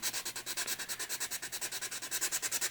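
Body filler on an old car part is sanded by hand in quick, even back-and-forth strokes, roughly seven rasping passes a second, soft and close with no talking.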